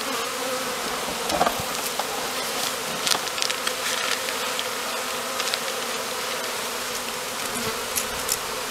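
Honey bees buzz steadily during a February varroa mite check, a dense, continuous close-up drone with scattered clicks and handling noises over it.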